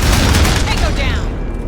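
Sustained suppressive gunfire from the video game Aliens: Dark Descent, a loud continuous rattle of rapid shots filling the short moment, with voices talking over it.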